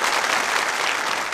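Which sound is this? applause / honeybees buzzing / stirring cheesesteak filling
applause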